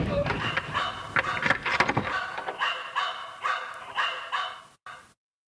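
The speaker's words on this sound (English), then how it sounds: "For that dog, he's dangerous!" A dog barks repeatedly in an audiobook dramatization of Enid Blyton's Famous Five, loud close barks in a rapid uneven series, with voices mixed in at the start before the clip falls silent.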